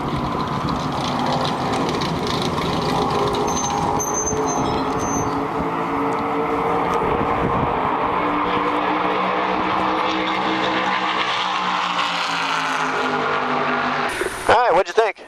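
Race car braking and slowing at Charlotte Motor Speedway, a loud close engine roar that gradually winds down in pitch as the car decelerates, ending with clatter and a brief sharp noise, with speech over it.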